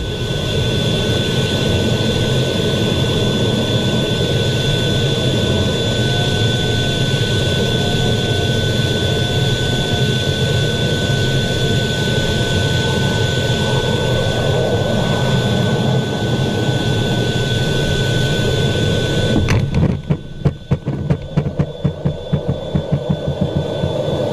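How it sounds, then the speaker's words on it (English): A jet aircraft lands on an aircraft carrier, heard from the cockpit: a loud, steady engine roar and wind rush for most of the stretch, then an abrupt jolt and a burst of rattling thuds near the end. "This is how landing on an aircraft carrier looks from the pilot's point of view."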